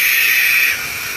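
Baby barn owls hissing close by, a loud continuous breathy hiss that drops in level partway through and carries on more softly.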